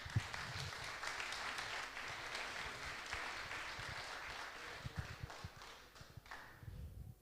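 Audience applause for a jury member at a live pitch competition, a dense, sustained clapping crowd that fills the whole stretch, with a few sharper claps standing out before it thins slightly near the end.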